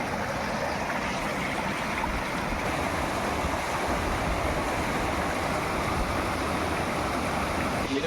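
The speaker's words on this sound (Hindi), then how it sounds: "तो ये पानी जो है खेतों की ओर जा रहा है।" Water rushes steadily through a kuhl, a Himachali irrigation channel running toward the fields, making a dense, continuous broadband roar that stays loud and unchanging throughout.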